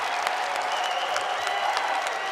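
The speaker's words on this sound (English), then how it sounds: "The crowd is excited." A packed arena crowd at a Real American Freestyle wrestling event cheers and claps steadily after a match win, a dense, continuous roar of applause throughout.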